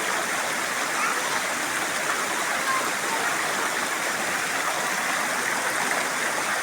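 Cold mountain spring water pours through a river in a constant, loud rushing wash that holds steady throughout, with no breaks.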